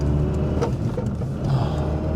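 A classic Mini with an electric conversion pulls along under steady power, giving a continuous low whir and hum with mild rises, close and fairly loud, with no talking.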